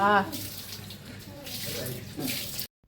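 Water gushes from a tap in a steady rushing stream, swelling louder at times, then cuts off abruptly.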